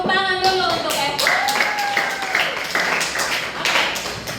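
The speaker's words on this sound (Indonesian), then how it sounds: "tepuk tangan dulu untuk Eva" A group of listeners claps for a presenter, a brief scattered round of hand claps mixed with tapping, heard alongside lingering voices and tonal sounds in the room.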